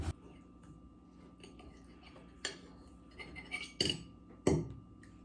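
Metal fork clinking against a plate during a breakfast of fried eggs, a few sharp separate clicks and taps at irregular intervals over quiet room tone.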